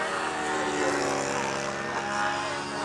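Model airplanes buzzing steadily overhead at a national competition in the Windy U Master event, a continuous droning propeller whine filling the air.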